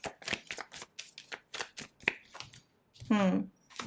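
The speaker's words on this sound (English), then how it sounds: "I've been shuffling the cards very, very well." A deck of tarot cards is shuffled by hand in quick riffling bursts, close and crisp, with a person talking around the shuffling.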